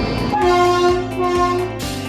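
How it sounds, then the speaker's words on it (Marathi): A passenger train pulls into a station platform in Pune, its horn sounding in long steady tones over the low rumble and rhythmic clatter of wheels, close and loud. "फायनली आमची ट्रेन आली."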